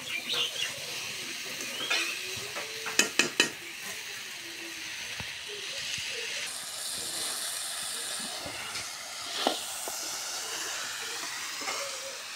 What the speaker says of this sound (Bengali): আলুগুলা সুন্দর করে আগে একটু মশলার সাথে কষে নিব